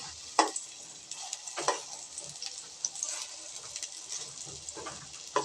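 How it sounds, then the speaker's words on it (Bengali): Puffed rice pakoras fry in a little oil, giving a steady close sizzle with a few sharp crackles and spatters scattered through it. No voices are heard. "অল্প তেলে ভাজা হয়ে যাবে এই পকোড়াগুলো"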